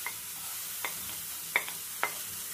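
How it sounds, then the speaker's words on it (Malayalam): Washed dried shrimp stirred and dry-roasted without oil in a pan over low heat, for a shrimp chutney, giving a few sparse scraping clicks of the stirring utensil against a quiet background hiss. "ഇനി നമുക്ക് ഈ കഴുകി വെച്ചിരിക്കുന്ന ചെമ്മീൻ ഒന്ന് ചൂടാക്കിയെടുക്കാം."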